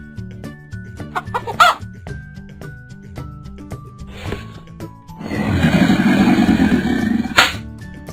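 A chicken clucks in a rapid, busy burst of repeated calls that swells loud near the end, preceded by quieter scattered sounds and a brief tonal melody in the background.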